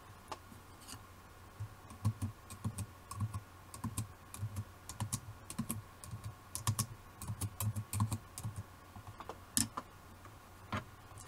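Steady clicking of keys on a computer keyboard, quiet and close, in quick irregular bursts with brief pauses, while typing text for a Brother ScanNCut cutting machine.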